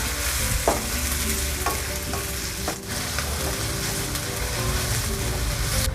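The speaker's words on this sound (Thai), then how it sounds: "เราก็เจียวไปเรื่อยๆจนกว่าหอมกระเทียมของเราจะเหลืองนะคะ" Sliced garlic and shallots fry in plenty of hot oil, giving a loud, steady, close sizzle throughout, broken now and then by the scrape and clink of a spatula stirring the pan.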